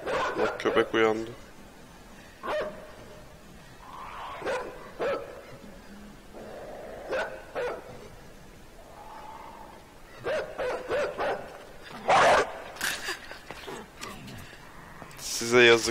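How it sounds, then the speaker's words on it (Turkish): Dog barking in the video game Inside, a few sharp separate barks heard over continuous talk. "Bak köpek uyandı."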